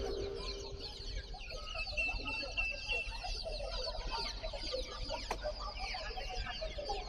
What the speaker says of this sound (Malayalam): കോഴിക്കുട്ടികളുണ്ട്.